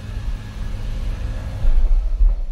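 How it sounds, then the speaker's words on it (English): Mk4 Supra fitted with a swapped V160 six-speed manual gearbox, running in fifth gear: a steady low drivetrain rumble that swells louder toward the end, with no voices. "if you can hear some sounds coming from the gearbox"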